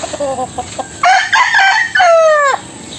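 Young rooster stags crow in short, close bursts, with a few clucks beforehand, then two loud, strained crows in a row.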